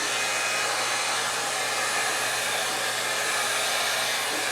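A 1-inch hot air brush blows steadily while curling the top of a synthetic wig, making a loud, continuous, even airflow whoosh with no breaks.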